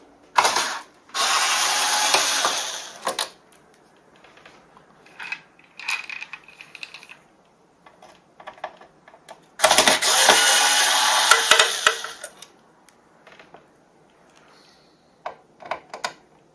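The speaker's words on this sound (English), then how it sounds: "I'm going to take off these screws first" Screws are removed from a Korg Triton LE keyboard, giving loud, close ratcheting whirs in two long bursts, with scattered small clicks and clinks between them and no talking.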